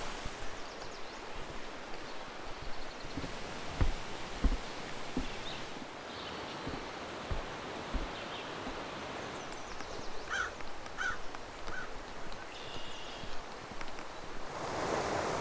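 A river rushes steadily through a pretty section of the Great Smoky Mountains, giving a broad, continuous wash of flowing water with a few soft thumps. No voices are heard.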